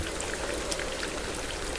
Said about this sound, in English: You close your eyes for a moment and listen. Rain,